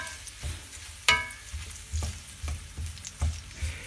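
Shallots and peppers sauté gently in a pan for peperonata, a soft, steady sizzle broken by a sharp clack and several quieter taps of a utensil, close up with no talking.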